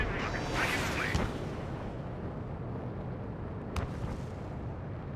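Bombs from a jet strike ground targets in Ace Combat 7, a deep rolling blast with a long rumbling roar and one sharp crack partway through.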